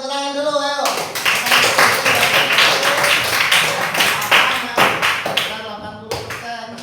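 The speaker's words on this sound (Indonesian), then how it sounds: "Oke, tepuk tangan dulu, ayo." Students in an Indonesian classroom clap their hands together, a dense, steady burst of many hands lasting several seconds, starting after a brief voice and thinning out toward the end.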